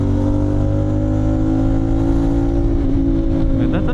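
A Kawasaki 450NK motorcycle fitted with an SC Project slip-on exhaust revs loudly and close, a deep, throaty, sustained drone with steady harmonic tones and a slight rise toward the end.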